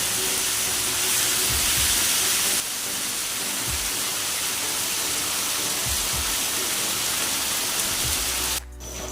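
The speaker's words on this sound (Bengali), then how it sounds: "বিফটা দিয়ে দিচ্ছি, আর আওয়াজটা শুনে অবশ্যই বোঝা যাচ্ছে তাওয়াটা কতটা গরম।" Beef sizzles on a very hot tawa with a loud, dense, steady hiss that dips slightly partway through, then cuts off abruptly at the end.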